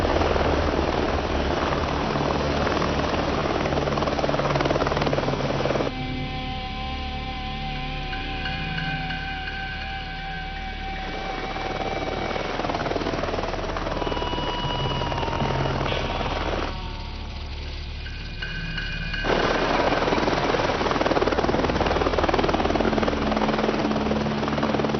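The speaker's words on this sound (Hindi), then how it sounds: "ये बड़े लोग जेल में स्टाइल से हेलीकॉप्टर में आते हैं" A helicopter arrives at a prison, its rotor and engine drone loud and continuous throughout, swelling and dipping slightly as it approaches and hovers nearby.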